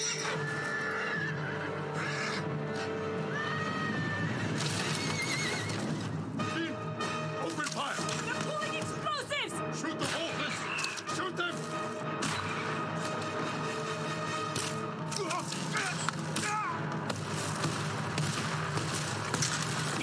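A horse in the video game Ghost of Tsushima whinnies several times. Hoofbeats, clashing combat hits and a dense game soundtrack play around it, with voices talking over the action.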